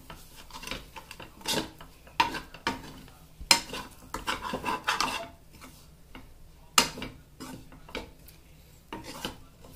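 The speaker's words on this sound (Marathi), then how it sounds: "आता आपण हे चांगल्या प्रकारे हलवून घेऊया।" A spoon stirs coriander into a dish in a pan over low gas, making scraping, rubbing strokes with clinks against the metal, in irregular bursts close to the mic, with no talk.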